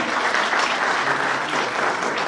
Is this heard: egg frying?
no